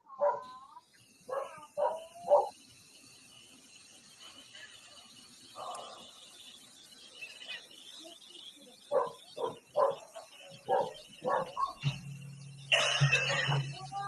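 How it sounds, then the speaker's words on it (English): Dogs barking over a microphone: short clusters of barks and yips, slightly distant and thin, spread through the clip, with a harsh burst of noise near the end. "are you the barking dogs?"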